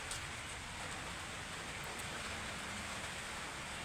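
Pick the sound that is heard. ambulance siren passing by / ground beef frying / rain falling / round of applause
rain falling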